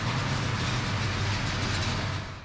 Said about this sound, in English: It's a loco-hauled train with a Norwegian type EL18 electric locomotive at the front.